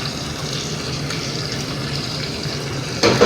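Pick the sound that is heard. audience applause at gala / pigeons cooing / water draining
water draining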